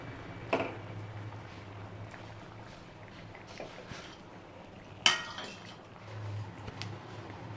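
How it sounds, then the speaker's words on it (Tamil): Marinated fish pieces, coated with salt and chili powder, go into a pot of kulambu with a couple of sharp clinks and soft splashes against a low, steady kitchen hum, with no talking. "கழுவி சுத்தம் பண்ணி உப்பு மிளகாத்தூள்லாம் போட்டு பரட்டி வச்சுருக்கேன் மீன் துண்டு இதில் சேர்த்துக்குவோம்"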